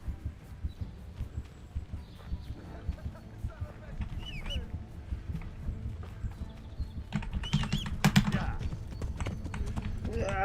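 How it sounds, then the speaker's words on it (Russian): Horse hooves gallop in a rapid clip-clop rhythm in the medieval game Kingdom Come: Deliverance, mixed with game ambience and louder clatter toward the end. "Беги, конь, беги!"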